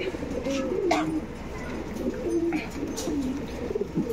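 Old line pigeons being shown for sale in Bangalore coo in low, rolling phrases, several calls overlapping near and clear against steady background noise, with faint chirps mixed in.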